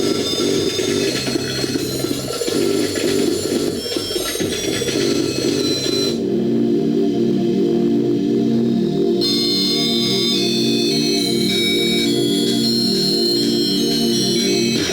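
Rave DJ music, a dense, loud electronic track with thumping low beats and bright layered synth lines, briefly thinning to a muffled stretch midway before the full high end returns.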